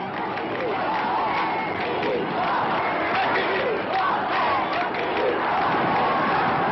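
Large crowd of civilians and soldiers in Algeria in 1958 cheering De Gaulle, a loud continuous roar of voices and shouts on an old, band-limited recording.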